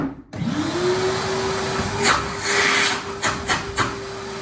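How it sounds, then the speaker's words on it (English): A Numatic George GVE370 wet-and-dry vacuum cleaner motor starts with a thump and quickly rises to a loud, steady whining drone, running alone and close with a few brief rubbing knocks. "He should sound like the big blue Hoover. If he doesn't, they've changed the motor."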